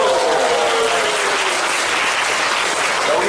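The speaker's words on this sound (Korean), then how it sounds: "박수!" Steady, loud clapping fills a church hall as a worship congregation applauds, many hands at once with no break, and a faint voice sounds beneath it.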